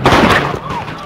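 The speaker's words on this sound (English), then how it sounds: "Gunfire erupting, protesters and police running for cover" Gunfire erupts during a protest in Ferguson: a loud, close blast at the start decays into a rough noisy tail, with a voice speaking over it.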